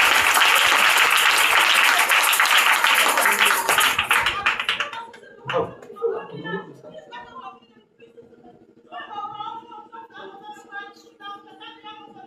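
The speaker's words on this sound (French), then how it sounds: "Acclame très fort" A church congregation claps and cheers loudly during a testimony service, with dense applause that fades after a few seconds into voices speaking and singing.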